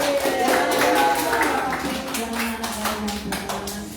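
A group of children claps their hands, a dense patter of many hands, under and alongside voices in the room.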